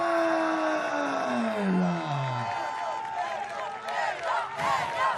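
Spectators cheer for the winner of a men's parkour freestyle final at the FISE Montpellier action sports festival, a moderate outdoor crowd roar with scattered clapping, partly under an announcer's amplified voice.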